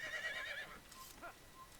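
A horse in the Assassin's Creed video game lets out a short, clear neigh at the start, followed by a few faint, scattered sounds at low volume.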